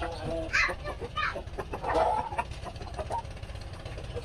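Rhode Island Red chickens cluck in short, scattered bursts close by during egg gathering, with a steady low background hum underneath.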